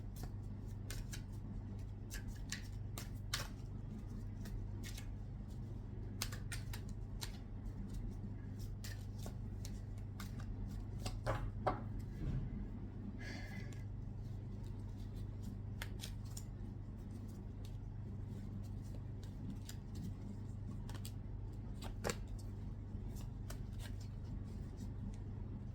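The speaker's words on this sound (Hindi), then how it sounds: "let's start shuffling the cards" Tarot cards are shuffled and handled quietly, with faint, scattered snaps and slides over a steady low hum of room or fan noise. No one talks.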